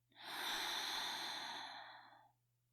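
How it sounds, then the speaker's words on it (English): A long, deep exhalation during yoga breathing, a steady airy rush that swells quickly and fades out over about two seconds, close and alone over a faint low hum. "Take a nourishing breath in, and then a deep cleansing breath out."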